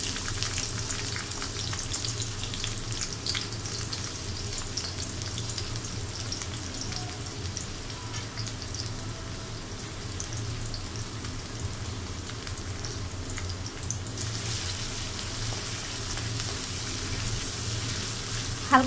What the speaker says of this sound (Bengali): হালকা করে পেঁয়াজটা একটু ভেজে নিব।